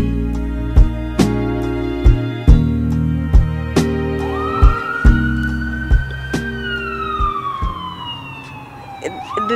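Ambulance siren on a street, loud and close, a steady wailing tone that slides down near the end as the vehicle passes, with engine rumble and repeated sharp knocks underneath.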